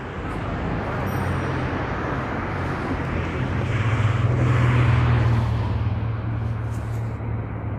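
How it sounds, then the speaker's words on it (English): Steady, loud roar of city traffic where cars come off the Manhattan Bridge at Christie Street and Canal Street in Chinatown, with a continuous low engine rumble and tire noise that swells slightly midway. "All the cars get off over here from the Manhattan Bridge."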